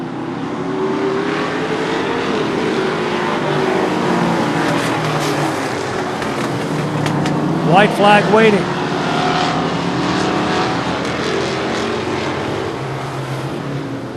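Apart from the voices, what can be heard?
race cars on a short track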